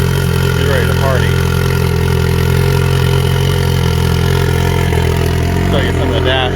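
A Polaris Pro R side-by-side fitted with a turbo kit and slick tires idles steadily at close range, a constant low engine drone running through the whole stretch with a faint high whine above it.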